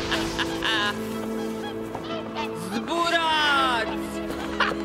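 Swans honking as a storybook sound effect: loud, nasal, wavering honks and calls overlapping in a close, busy cluster, set over a steady musical background.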